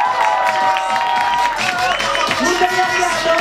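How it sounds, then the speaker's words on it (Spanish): A studio crowd sends off a performer with loud cheering, whoops and clapping, a continuous roar of voices layered over the applause. "sé que la va a despedir con un fuerte aplauso a la hermosa Tyra Smash"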